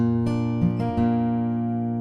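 An acoustic guitar fingerpicking pattern plays two notes and then three quicker plucks, all ringing over each other up close. The last notes sustain and fade, and no one speaks.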